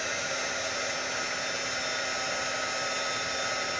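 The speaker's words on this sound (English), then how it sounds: "take your heat gun and just come down on it." A heat gun blows hot air over embossing powder, a steady close whooshing hiss that holds constant and alone for a few seconds.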